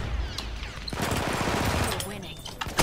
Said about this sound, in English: I got shot by someone invisible.